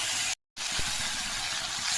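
Water poured into a hot pan of cumin and coriander powder for a fish curry hisses in a loud, broad sizzle that cuts out briefly, then returns steady and unbroken.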